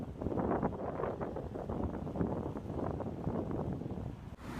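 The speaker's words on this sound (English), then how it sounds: "It's been against the wind all the way." Strong wind buffets steadily during travel as a soft, continuous low rumble and roar, faint and without any voice.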